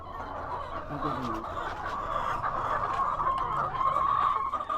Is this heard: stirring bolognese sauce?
no